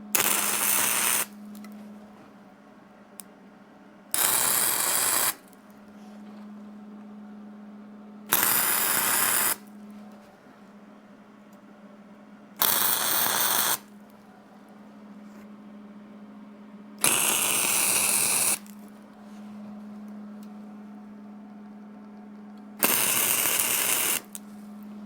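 MIG welding tacks from a Hobart 210MVP welder joining steel supports to angle iron for a hydraulic grapple: six bursts of harsh crackling, each a second or two long, separated by quieter gaps with a steady low hum.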